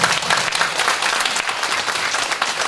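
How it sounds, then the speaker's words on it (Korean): A church congregation claps together during a Korean worship service, loud and sustained with a lively, slightly uneven rhythm through the brief stretch and no voices over it. "우리 하나님께 한번 영광의 박수를 드립니다."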